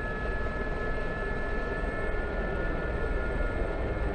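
A Gazelle helicopter in the DCS combat flight simulator runs at takeoff power, a dense, even engine and rotor roar with a thin high whine, constant and close throughout.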